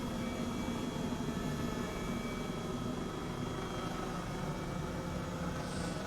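A helicopter engine in Microsoft Flight Simulator 2020, flying near Oslo, gives a steady broadband rotor and turbine drone that holds unchanged throughout at moderate loudness, with no voices.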